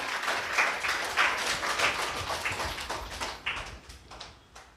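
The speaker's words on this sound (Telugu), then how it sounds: "గట్టిగా చప్పట్లు కొడదాం." A church congregation at a Sunday service claps together in a dense burst of applause that swells early and then thins out into scattered claps, fading by the end.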